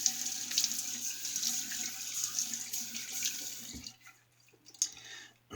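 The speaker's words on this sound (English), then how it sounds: "let me wet the face and go ahead and lather up" Bathroom tap running steadily into a sink as the face is wetted before a shave, a close hissing stream that stops near the end, followed by faint drips and handling sounds, no talking.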